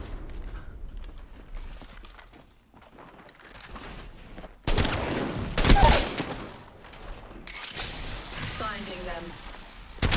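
Gunfire during an Apex Legends match, with loud, dense bursts of shooting erupting midway and continuing in rapid volleys, while voices come through near the end.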